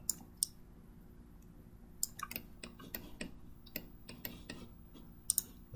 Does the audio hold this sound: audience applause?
no